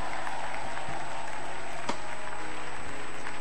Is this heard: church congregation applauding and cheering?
yes